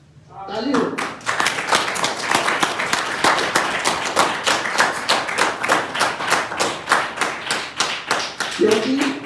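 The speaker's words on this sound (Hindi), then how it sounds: "ताली हो" Audience applause at a Sharda competition award ceremony at a gurukul, sustained dense clapping lasting several seconds, fairly loud and close, with a brief voice at the start and end.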